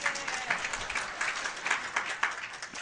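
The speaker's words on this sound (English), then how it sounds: "So I want to give him another round of applause." An audience in a lecture hall claps steadily, a dense wash of many hands applauding together for a few seconds without pause.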